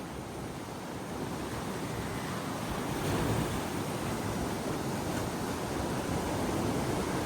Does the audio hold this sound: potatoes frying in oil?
no